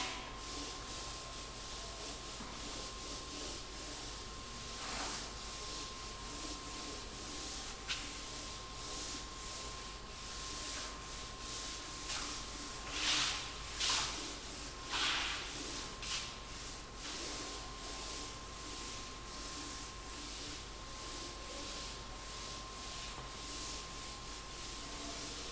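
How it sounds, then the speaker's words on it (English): Steady dry rubbing and scraping, like sanding an object by hand, runs continuously with brief louder strokes near the middle, alone with no talk. "So I am going to rub it."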